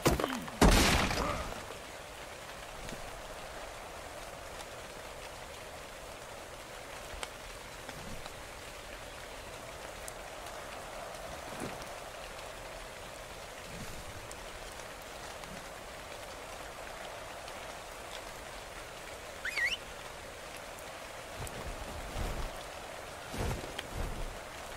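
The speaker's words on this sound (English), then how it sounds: "How exactly is it raining in Volcano?" Rain falls inside a volcano area in the game ARK: Survival Evolved, a soft, steady patter that runs throughout, opening with a louder burst and marked by a few brief sharper knocks.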